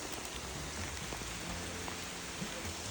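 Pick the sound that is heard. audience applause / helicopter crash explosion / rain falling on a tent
rain falling on a tent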